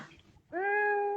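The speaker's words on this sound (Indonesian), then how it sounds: "ngambil kucing bentar, kucingnya nakal" A pet cat gives one clear, sustained meow up close, preceded by a brief softer murmur.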